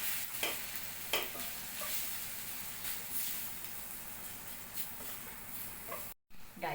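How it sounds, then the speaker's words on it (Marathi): Gram flour toasts in a pan while a spoon stirs it, producing a steady soft sizzle with scattered scraping strokes, fairly quiet and continuous, with a brief dropout near the end. "हे डाळीचं पीठ पण चांगलं अगोदर भाजून घेऊया"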